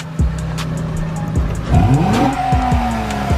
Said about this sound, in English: this is gonna be a quick preview of how the car sounds with the stock muffler